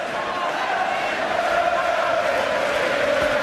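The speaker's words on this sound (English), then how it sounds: "Crowd bursting into song here." A boxing arena crowd at the M.E.N Arena in Manchester sings during a world heavyweight title fight, a dense, sustained wash of massed voices heard from a distance.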